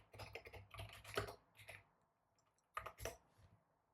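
Quiet, close computer-keyboard typing comes in two short bursts of rapid clicking keystrokes separated by a pause, alone without talk.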